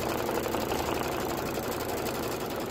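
Embroidery machine stitching a trapunto pineapple pouch in the hoop, a steady, dense mechanical hum with rapid needle pulsing that runs continuously and evenly at close range.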